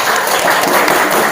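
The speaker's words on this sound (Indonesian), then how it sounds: "Tepuk tangan untuk Arga." A classroom of students applauding a classmate, a short dense burst of clapping that fills the room, loud and close, with no voices over it.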